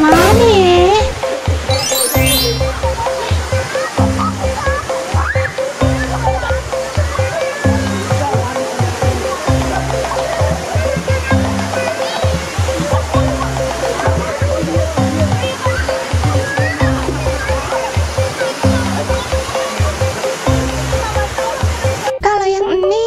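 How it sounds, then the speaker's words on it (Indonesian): Cartoon waterfall at a curug in an animated ondel-ondel Betawi compilation, a steady rushing splash of water running throughout with children's voices and chatter over it and some playful melodic sounds. "Masa main perosotan di air terjun curug?"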